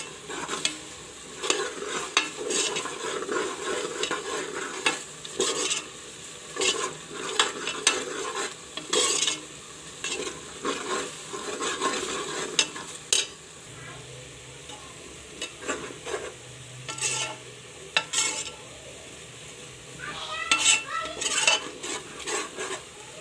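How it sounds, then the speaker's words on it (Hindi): Onions sizzle and fry in a pot for beef biryani while a spoon scrapes and stirs them in repeated bursts, with occasional clinks of metal cookware and no talking. "प्याज को हम करेंगे ब्राउन। हमारी गोल्डन होने वाली है।"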